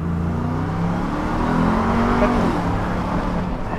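A heavy 6x6 Juggernaut vehicle accelerating at full throttle, its engine a steady, loud, droning roar that climbs slightly in pitch as it pulls, close and continuous with no talk.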